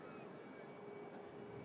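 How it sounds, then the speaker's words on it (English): A Ryanair Boeing 737 Max arriving from Murcia, heard as a steady, distant jet engine rumble and whine that holds evenly through the short stretch without talk. "Another Max aircraft coming in from Murcia this flight."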